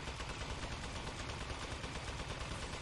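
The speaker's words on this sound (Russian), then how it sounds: "Эта штука так хорошо стреляет" Rapid, steady shooting rattles along in the Steam Deck game Aperture Desk Job, a faint but dense stream of repeating shots with no pauses and no voices.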